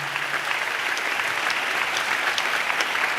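A church congregation claps together in steady, dense applause that holds at an even level for the whole stretch, no voices rising above it.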